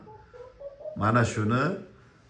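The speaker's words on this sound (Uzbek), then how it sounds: "musichani ovozini eshitib yotganga nima yetsin" A dove coos softly and rhythmically nearby, a few low, rounded calls standing out over quiet surroundings.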